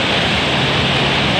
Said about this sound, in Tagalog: Yes, it is raining so hard now.